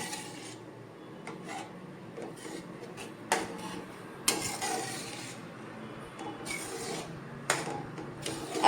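A spatula stirring and mashing pav bhaji vegetables in a pan, producing repeated scraping and rasping strokes with a few sharper knocks, close and steady without speech.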